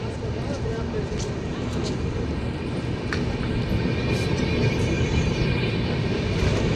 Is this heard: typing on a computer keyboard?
no